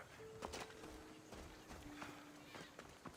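Horse hooves clip-clopping in the Assassin's Creed Odyssey video game, a soft steady walking rhythm of repeated thuds with faint tonal game sounds.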